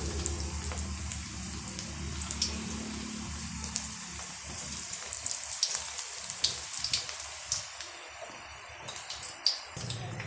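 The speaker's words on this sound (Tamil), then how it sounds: "இப்போ கொஞ்சம் கொஞ்சமாக மாவு எடுத்து இது போல் லைட்டாக கிள்ளி விட்டுக்கலாம்." Onion pakoda batter dropped into hot oil on a medium flame, giving a soft, steady sizzle and crackle with scattered pops that grow busier toward the end, moderately close and with no talk.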